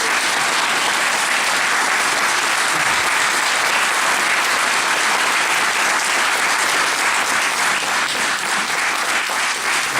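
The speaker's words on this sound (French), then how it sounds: "je pense qu'il mérite une salle d'applaudissements." A crowd at a political party's Epiphany cake gathering in Lille bursts into sustained applause, a thick continuous wash of clapping lasting the full stretch without speech.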